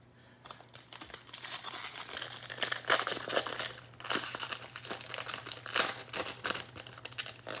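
A paper wrapper is crumpled close up while a jumbo hobby box of 2021 Bowman Baseball cards is opened, giving a dense run of crackling, crinkling bursts that rise and fall for several seconds.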